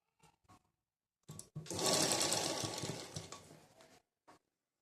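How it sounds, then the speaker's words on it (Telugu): Sewing machine stitching a cross belt onto a blouse front, a few short needle taps followed by a close, loud, steady run of about three seconds, then a final brief tap. "దీని మధ్యలో పెట్టి నేను ఈ క్రాస్ బెల్ట్ని ఇలా కుట్టి వేసుకుంటున్నా కదలకుండా"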